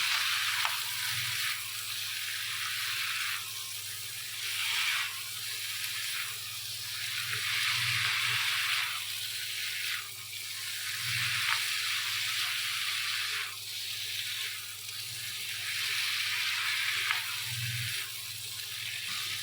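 Chicken with red and green capsicum frying in a pan, a steady close sizzle with soft periodic scraping sweeps, no talking.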